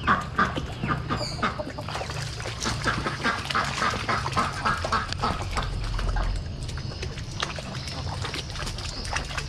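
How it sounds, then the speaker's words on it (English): Ducks quack in a water-filled garden, a busy run of calls close by over a steady low rumble, with a voice speaking now and then through the clip. "Hello, duck."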